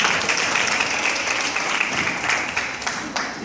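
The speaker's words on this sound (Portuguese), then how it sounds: "Aplauda Jesus." Church congregation applauding during a worship service, a full, continuous roar of many hands clapping that stays loud and even throughout.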